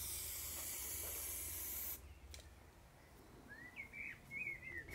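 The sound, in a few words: spray paint canister spraying a panel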